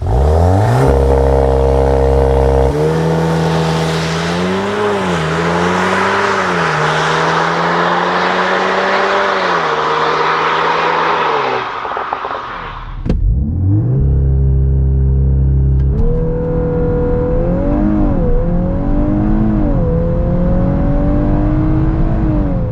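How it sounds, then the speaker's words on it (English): A VW Golf 8 R with 320 hp launches under launch control on wet tarmac, its engine roaring up through the gears in loud, rising sweeps broken by quick shift pauses, with road and wind rumble underneath. "So let's kick it off with a 0 to 100 launch control."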